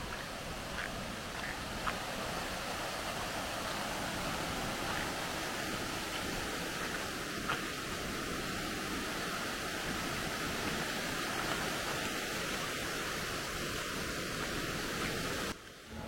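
Steady broadband rush of the Padekap waterfall, a natural cascade set in the countryside of Chindar in the Konkan, heard close and continuous with no talk over it.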